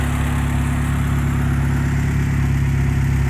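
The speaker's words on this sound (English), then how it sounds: "the car is running, it drives fine-ish" A Honda Civic EG hatchback with an H2B engine idles close by, a loud, steady, low rumble with no change in pitch throughout.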